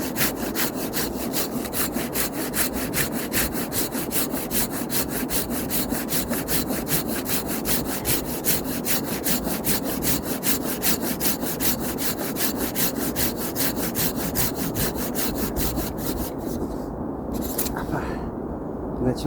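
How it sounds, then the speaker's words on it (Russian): A hand saw cuts through wood in fast, regular rasping strokes, loud and close, the rhythm continuing steadily until the last few seconds, when the strokes break up and stop unevenly. "Пилить этой пилой надо на себя."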